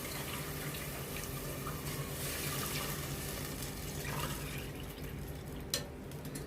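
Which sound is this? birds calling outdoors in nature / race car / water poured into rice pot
water poured into rice pot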